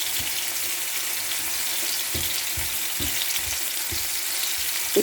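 Food sizzles steadily in olive oil in a paella pan, a dense continuous frying hiss with soft stirring knocks and scrapes close by.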